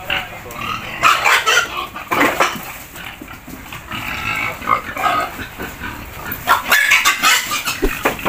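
Large fattening pigs squeal and grunt in bursts while being caught on a farm, with chickens and a dog audible among the commotion, loud and irregular throughout.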